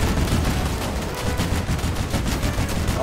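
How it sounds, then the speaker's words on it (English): Rapid automatic gunfire from armoured combat vehicles in the online game Crossout, a dense, continuous stream of shots that stays loud and close for the whole stretch. "I am pretty sure I'm getting shot from the back here"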